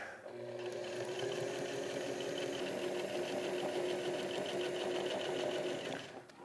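A sewing machine runs steadily for about six seconds, stitching the top hem of a handmade backpack, a close, even mechanical whirr with no talk over it.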